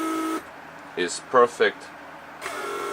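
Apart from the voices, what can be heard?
Mercedes S-class door lock vacuum pump running lock and unlock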